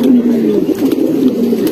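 A napta pigeon, a breed kept by fanciers, coos in low repeated throaty rolls close by, with a steady murmur and some voice-like sound mixed in.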